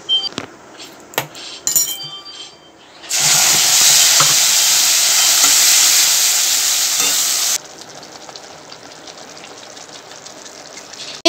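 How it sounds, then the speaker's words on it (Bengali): Whole spices, cumin seeds and bay leaf hit hot oil in a steady, loud sizzle lasting several seconds, preceded by clinks and handling noises and trailing off into a quieter crackle. "একটু ফোড়ন দিয়ে দিলাম, এই গোটা গরম মশলা, জিরে, এগুলো সব, জিরে, তেজপাতা"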